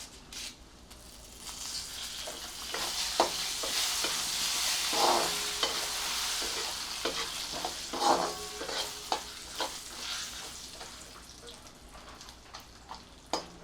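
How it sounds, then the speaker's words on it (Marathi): Curry leaves and sugar sauté in a hot pan, a steady close sizzle that swells midway, with a spatula scraping and tapping at irregular intervals. "आणि एक चमचा साखर हे सगळं छान परतून घेऊया कढीपत्ता घालते"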